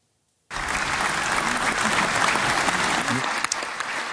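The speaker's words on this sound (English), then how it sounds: "Members of Israel's Knesset applauded when Prime-minister Benjamin Netanyahu delivered the news on Monday." Members of Israel's Knesset break into loud, sustained applause after a half-second of silence, the dense clapping holding steady for several seconds in a large chamber.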